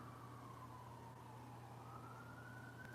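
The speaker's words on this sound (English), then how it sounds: "It's a lot of sirens." Several emergency vehicle sirens wail steadily in the distance outside, a continuous rising and falling tone over low traffic rumble, with no talking.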